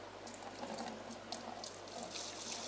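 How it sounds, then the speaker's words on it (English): Water siphoned through a tube from a Juwel Trigon 190 planted aquarium runs into a bucket as a steady, soft, close trickle and gurgle with a hissy wash over a low hum. "this will start to hopefully siphon water out from your aquarium"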